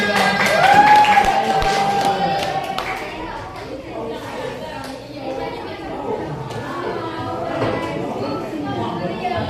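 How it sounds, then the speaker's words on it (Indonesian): A classroom of students claps together in a scattered burst of applause, mixed with chatter and a teacher's voice talking over the clapping. "Ya, beri tepuk tangan"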